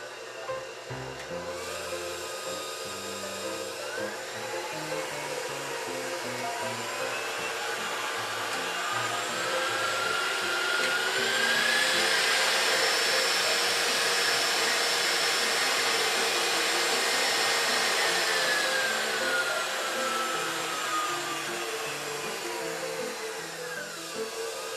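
KitchenAid 5 Plus Professional stand mixer running, a steady electric motor whine with gear hum that swells slightly in the middle and holds for the whole stretch, heard up close with nothing else over it.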